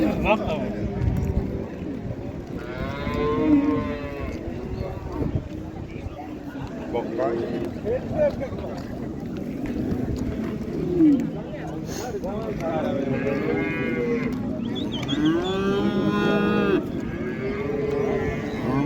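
Cattle and bulls moo repeatedly, some calls long and drawn out, near and far across a busy livestock market, with people talking loudly and haggling over them almost throughout.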